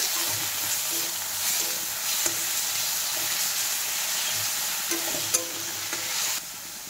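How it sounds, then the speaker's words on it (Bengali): Ground paste of ginger, cumin, garlic, onion, tomato and black pepper frying in a pan for a prawn curry with potato and eggplant, a steady loud sizzle with occasional scraping stir clicks, no talking. "এই মশলাটা এখন ভালো করে কষিয়ে নেব।"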